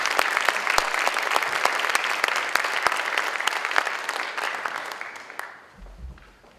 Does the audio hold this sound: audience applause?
yes